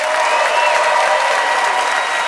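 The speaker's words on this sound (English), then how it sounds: "By applause, who thinks Howie's preview punchlines prevailed?" A studio audience at a comedy debate show breaks into steady, full applause that lasts a couple of seconds at an even level.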